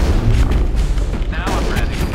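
Gunfire in a Mass Effect firefight against Geth, a dense run of booming shots and bursts close up, layered with clattering impacts, with voices heard in the mix.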